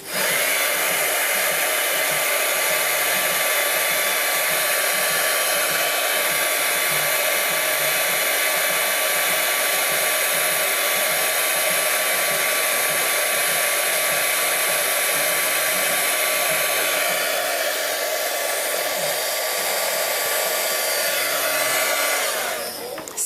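A steady, loud blowing roar of a heat gun running continuously, with no talking, dipping slightly in tone near the end.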